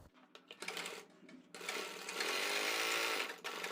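A sewing machine stitches a neck design, starting with short stop-and-go bursts and then running in a long, steady, fairly loud whir for a couple of seconds.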